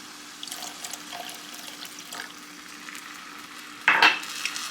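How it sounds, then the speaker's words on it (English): Vegan sloppy joe sauce poured into a hot pan makes a low simmering crackle with scattered small pops, then a brief louder sizzling splatter near the end. "Make sure you lower your heat before you go pouring this in or it's going to start splattering everywhere"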